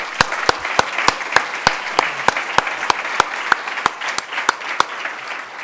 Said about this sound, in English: join me in a round of applause to everybody for this